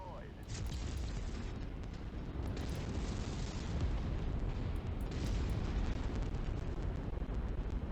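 An enemy vehicle explodes in the MechWarrior 5 video game, a sustained rumbling blast with crackling bursts layered over a dense low roar that holds for several seconds.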